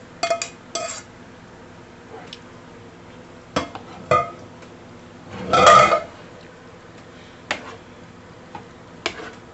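Cooked macaroni noodles go into a pot of turkey chili sauce, with scattered clinks and knocks of a utensil against the pot and a louder wet, scraping tumble in the middle.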